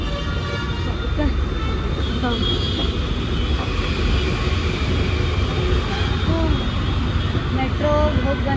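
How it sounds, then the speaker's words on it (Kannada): Bangalore railway station ambience: a steady, dense din of trains and machinery with a crowd murmuring throughout and occasional brief tonal squeals or horn-like notes. "Bangalore railway station."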